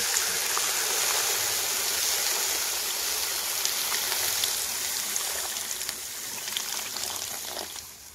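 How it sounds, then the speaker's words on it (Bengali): Water poured into a pan of fish-head curry, a steady rushing gush that holds nearly constant before tapering slightly toward the end. "এবার জলটা দিয়ে দেবো।"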